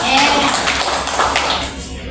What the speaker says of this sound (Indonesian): Kalian boleh duduk kembali, beri tepuk tangan ya.